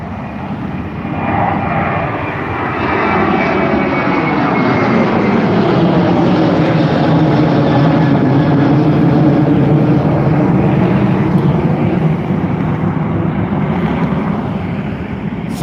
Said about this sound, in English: Right now we have a Boeing 737-800 taking off to London Gatwick.